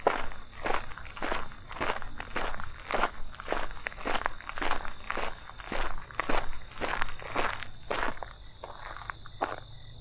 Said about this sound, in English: So there's that cricket sound.